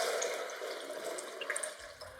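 Water pours steadily into a big pot, about four liters being filled for a pastrami brine; a soft, continuous splashing rush runs at low level throughout with no talk.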